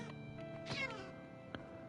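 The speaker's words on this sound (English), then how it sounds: "There's the cat!" A cat meows in a video game, one short close meow at mid-clip with a tiny chirp after it, heard over a faint steady background tone.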